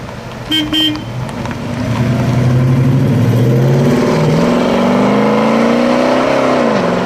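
A Plymouth Roadrunner muscle car gives two short horn toots, then its engine rises in a loud, close revving pull that climbs steadily and drops off at the end.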